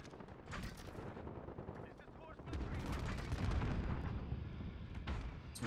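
Rapid gunfire and heavy explosive booms fill a Warzone match, swelling louder in the second half with repeated bursts layered under voices talking over the chaos.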